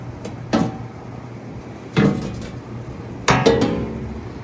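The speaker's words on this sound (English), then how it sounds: "now to go ahead and pull this plate here. Just comes right up" Bolted metal access plate pulled up on a mini excavator, three sharp clanking knocks spaced over a few seconds, close and fairly loud, each with a short metallic ring, no talking.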